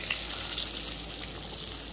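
A second batch of chicken fries in hot oil, with a continuous bright hiss and fine crackle that holds at a moderate, even level with no talk.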